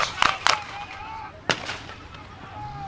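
Sharp grenade-like blasts at a tank battle reenactment at Tankfest 2025, with two quick pops close together, then a third a second later, heard at a distance over an open-air ambient background.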